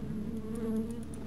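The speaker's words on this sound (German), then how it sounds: "Oh, Bienenschwarm. Super." Steady droning buzz of a bee swarm spell in the fantasy role-playing game Land of Lore, a dense insect hum at moderate volume with no voices over it.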